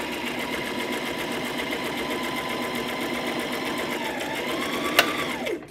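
Sewing machine stitching fabric for a pinwheel hair bow, a close, steady, rapid mechanical whir that runs evenly, then slows with a falling pitch and stops after a brief click.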